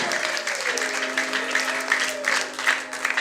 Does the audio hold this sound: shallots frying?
no